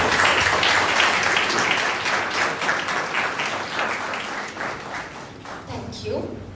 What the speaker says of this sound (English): May I request all present to extend a gracious round of applause